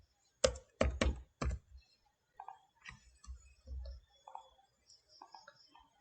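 Keys on a computer keyboard clack as a name is typed, a quick burst of four sharp taps followed by a scattered run of lighter, uneven keystrokes, close and fairly quiet with no voice.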